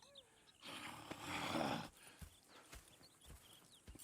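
Horses in the Red Dead Redemption 2 video game, with a broad snorting or whinny burst near the middle followed by scattered soft hoof clops and shuffling, fairly close and moderately loud, no talk.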